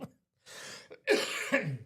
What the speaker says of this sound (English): Just talking about it makes me cough.